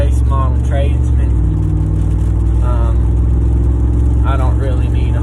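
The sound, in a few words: 2018 Ram 1500 5.7 Hemi engine with straight pipes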